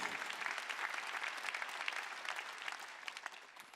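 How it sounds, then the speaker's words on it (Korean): A church congregation applauds together during a Christmas Sunday service, a dense, steady wash of many hands clapping at a fairly soft, distant level with no speech over it. "박수로."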